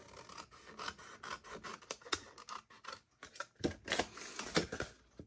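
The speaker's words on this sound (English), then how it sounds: "now grab your scissors, and we're going to cut away the four corners right here" Scissors snip away the corners of a paper treat box in a quick series of close, crisp cuts and rubs, with short pauses between bursts and no voices.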